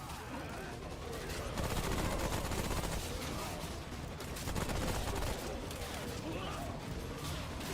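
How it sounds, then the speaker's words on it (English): Automated turrets fire at enemies in the game Remnant: From the Ashes as dense, continuous rapid gunfire with crackling bursts and impacts, loud and unbroken, with voices talking over it. "That's why I got turrets."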